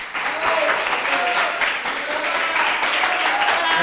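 A late-show studio audience applauds a singer-songwriter guest, a sustained, dense burst of clapping that holds steady for several seconds, with faint voices underneath.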